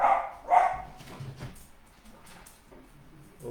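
A dog lets out two quick close barks at the start, then softer scuffling and small yips fade into a quiet room.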